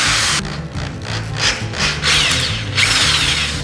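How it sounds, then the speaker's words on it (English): Power drill fitted with a very large bit boring into a handrail, giving a loud, steady ratcheting grind with repeated surges as the bit bites and releases, close up and alone. "we gotta put the Kraken of all drill bits in"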